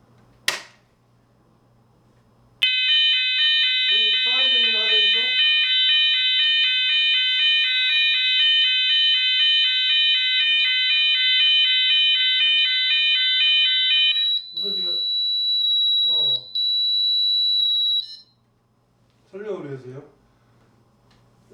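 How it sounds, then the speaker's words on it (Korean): A fire alarm siren sounds after someone presses a fire call button on a KS-standard fire alarm system. A click comes first, then a loud, steady electronic siren holds for about fifteen seconds, with someone talking over it. "요거를 현장에 눌러가지고 사이렌을 울리고 핸드마이크로 방송을 해서 빨리 대피하도록 이렇게 해야 되는 거죠"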